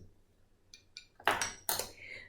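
Metal measuring spoons, a tablespoon and a teaspoon, clinking together as they are handled, with two faint light taps followed by two louder, bright clattering clinks close by.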